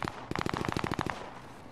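Rapid burst of automatic gunfire in the Warzone video game, roughly a dozen sharp evenly spaced shots in quick succession, fairly close and loud, then trailing off into a fading tail.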